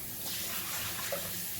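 Water pours steadily into a pressure cooker holding fava beans for bissara, a soft continuous splashing rush lasting under two seconds, fairly quiet and close.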